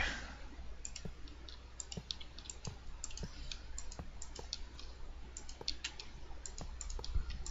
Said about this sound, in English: My mouse keeps wanting to double click